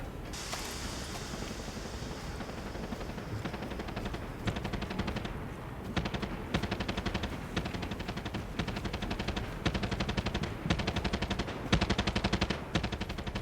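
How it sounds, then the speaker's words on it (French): Rapid machine-gun fire in the video game Far Cry 6, with dense repeated bursts of automatic shots running through the whole stretch, fairly quiet in the mix, with short gaps between volleys and no speech. "Où est-ce qu'il tire et d'où est-ce qu'il tire?"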